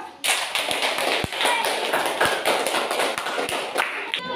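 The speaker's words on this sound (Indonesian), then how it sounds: "Tepuk tangan dulu" A class audience claps hands in a classroom during a teaching session, with sharp, uneven claps repeating close by for several seconds.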